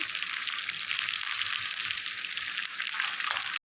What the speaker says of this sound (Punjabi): ਹੁਣ ਆਪਾਂ ਇਹਨੂੰ ਤੇਲ ਦੇ ਵਿੱਚ ਚੰਗੀ ਤਰ੍ਹਾਂ ਉਲਟ ਪੁਲਟ ਕਰ ਦਿੰਨੇ ਆ